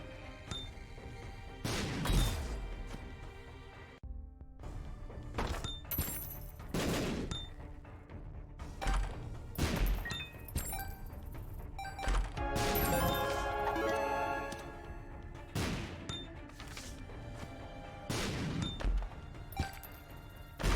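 A troll bomb goes off in The Binding of Isaac: Repentance in greed mode, a sharp blast that rings out among repeated punchy impacts and thuds from the game's action.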